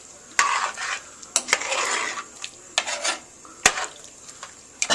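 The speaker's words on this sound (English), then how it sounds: "So I think, let me see, I'm going to stir this." A spoon stirs potato hash with stock in a pot, scraping and clinking against the sides in irregular close strokes over a soft steady simmering sizzle, with no one talking.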